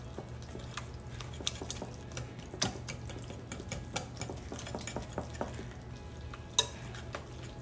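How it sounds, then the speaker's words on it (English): Cornbread batter with eggs, garlic salt and finely shredded sharp cheddar being whisked in a bowl, a steady run of soft clicks and scrapes with sharper taps now and then, close and quiet, with no talking. "Then I'm just whisking it around."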